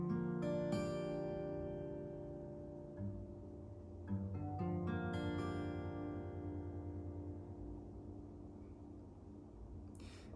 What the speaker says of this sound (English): The first chord is an E-7, really simple chord to play.